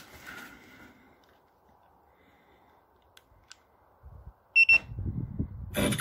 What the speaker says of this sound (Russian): наконец вот приобрел сигнализацию со звуком